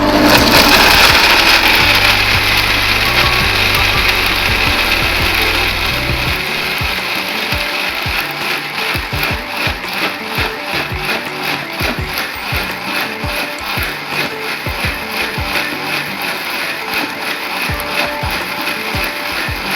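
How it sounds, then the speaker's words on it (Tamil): An electric mixer grinder grinding masala paste for masala puri kurma, a loud steady whirring grind that settles into a rapid rattling, ratchet-like churn with dense pulses for the full stretch, with no talk. "இப்போ மிக்சியில் நல்லா அரைச்சிக்கலாங்க"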